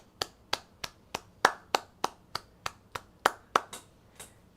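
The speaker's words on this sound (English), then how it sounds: "Let's go ahead and start it off with a round of applause, bro." A single pair of hands claps about thirteen times in an even, unhurried rhythm, sharp and close, with nothing else underneath.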